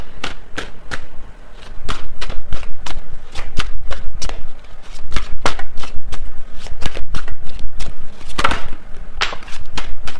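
A deck of tarot cards is riffled and shuffled up close, a long run of sharp papery flicks and snaps, dense and loud, with one card flicking out near the end.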